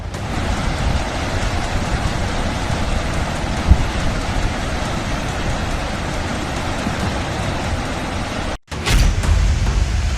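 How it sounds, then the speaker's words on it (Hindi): The Swat River in flash flood at Kalam town in the Swat Valley, a steady, loud, broadband roar of rushing water that continues without pause, with a brief cut and a gust near the end. "स्वात घाटी के कलम शहर में स्वात नदी विकराल रौद्र रूप के साथ गरज रही है।"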